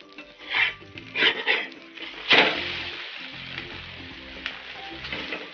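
An egg omelette-style andyachi poli frying in a pan just after being flipped, with a few loud spatula scrapes and clinks against the pan over a low sizzle that settles into quieter frying.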